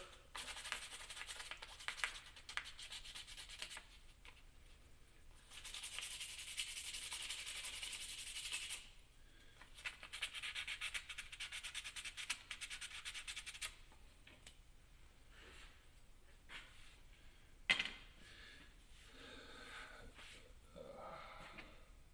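Sandpaper rubbing back and forth on a hobby model car for tabletop car-combat gaming, a steady close scratchy sanding in long bursts with short pauses, then lighter intermittent scraping and a single sharp knock.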